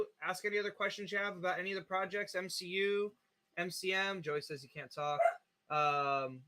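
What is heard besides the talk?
dachshund barking in the background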